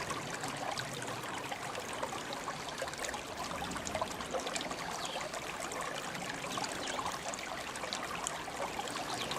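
Thin flow of water trickling steadily through a gold sluice at a riverside outing, a continuous soft splashing hiss close by with no voices.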